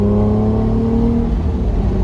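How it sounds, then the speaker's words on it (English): A first-generation Acura NSX engine revs hard, a loud, close, high-pitched sustained tone that climbs slightly and then holds, with no voices over it. "I could just let this engine scream."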